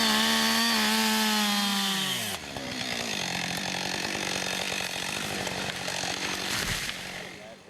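A chainsaw screams at high revs, then drops in pitch and bogs down as it bites into wood, loud and close.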